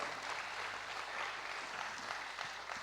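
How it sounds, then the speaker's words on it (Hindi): Audience clapping at an Indian talk show, a faint, distant and even patter of many hands that holds steady and never swells. "तो हम इसके लिए भी उनको बहुत तालियों से अभिवादन करते हैं।"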